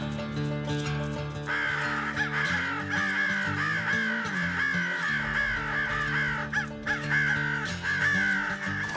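Crows caw repeatedly and overlapping, fairly close and loud, during a winter crow hunt on a wildlife management area, with steady calls filling the whole stretch and no talking.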